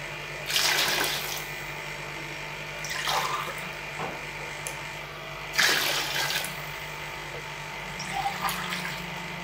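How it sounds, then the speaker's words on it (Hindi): Water poured from glasses into a cooking pot of mutton biryani, several separate splashing pours with short gaps between them, close and moderately loud over faint kitchen background. "और ये 4 गिलास डाल दिए हैं पानी के"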